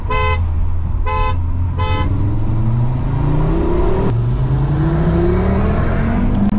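Two Audi RS3s, a new model against an older one, pulling hard from a rolling start in a drag race, engines climbing through revs together after a few short horn-like tones, loud and close throughout.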